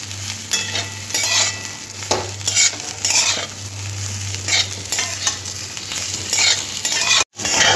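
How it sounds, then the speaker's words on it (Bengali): A spoon stirs fried potatoes into sizzling fish roe curry (macher dimer jhuro) in a pan, giving continuous close frying hiss and scraping stirs with no talking. "এই যে ভেজে রাখা আলুগুলো দিয়ে ডিমের সাথে 1-2 মিনিট মিশিয়ে নেব"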